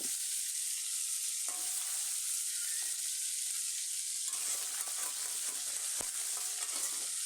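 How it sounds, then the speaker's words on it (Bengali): A rohu fish head fries in hot oil with a continuous crackling sizzle, steady and fairly close, broken by a couple of brief knocks as it is turned. "এভাবে আমি রুই মাছের মাথা লাল লাল করে ভেজে নেব"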